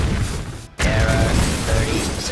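A Hearthstone barrage effect sweeping the board, a dense loud burst of mechanical crashing and shattering that cuts out briefly and then surges back as a sustained roar.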